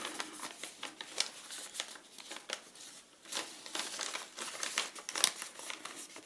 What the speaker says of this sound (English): Crease the other one too.